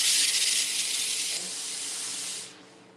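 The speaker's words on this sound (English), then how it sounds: "And that is the power of the steam that is found on all of our products." A garment steamer sends a loud, continuous hiss of steam onto a silk blouse, holding steady for about two and a half seconds before tapering off and cutting out.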